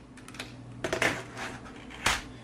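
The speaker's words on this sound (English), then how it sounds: "flip over the keyboard" A Logitech MK320 wireless keyboard being flipped over on a surface, giving a few close plastic clacks and knocks spaced across a couple of seconds, fairly quiet.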